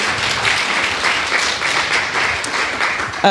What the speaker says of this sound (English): So if you can give him some applause.